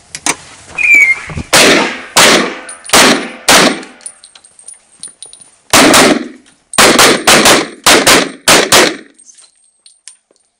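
Indoor sport shooting range: loud, close gunshots fire in irregular groups, some as single sharp cracks and others in rapid strings, each ringing briefly off the hard walls of the room, with no talking over them.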